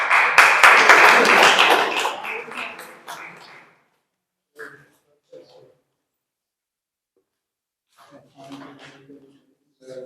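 Guests at an event in a Karachi friary clap loudly and densely for a few seconds before the applause dies away into quiet, followed by a few faint, sparse sounds and some speech.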